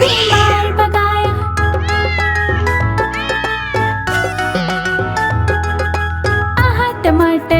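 A cat voice meows in a cheerful Hindi children's rhyme about a tomato. Repeated, drawn-out meows ride loudly over bright, busy backing music.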